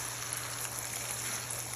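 Warm water from a kitchen sink sprayer set on low hisses steadily into a seed tray holding fertilizer and seed pods, a constant, even, fairly faint spray with no talking.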